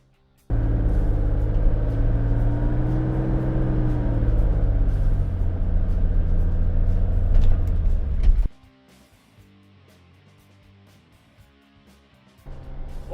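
An Aston Martin DB5 drives on the road, its engine a loud, steady rumble with rising and falling pitch for several seconds before dropping away abruptly, then returning faintly.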